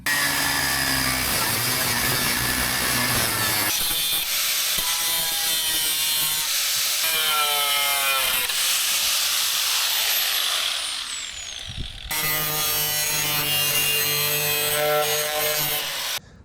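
A power saw cuts through the metal wheel arch of a BMW E46 328i, a loud, steady grinding whine that shifts in pitch, drops off briefly near the end, then resumes at full strength.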